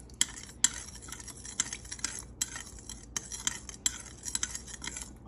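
Sea salt stirred into water with a utensil, giving repeated rhythmic scraping and clinking strokes against the container, close and fairly quiet, with no talking.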